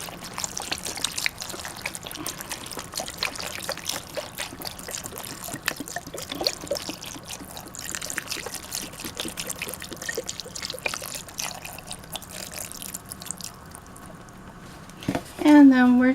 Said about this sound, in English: We're going to pour our 1 quart of beef broth in there.